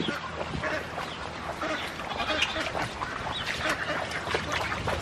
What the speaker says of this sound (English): scare the ducks away.